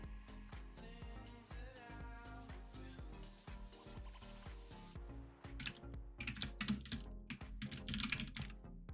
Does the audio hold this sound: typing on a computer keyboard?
yes